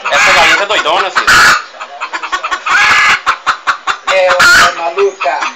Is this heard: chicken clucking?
yes